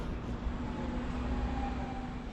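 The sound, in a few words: train ride in Oslo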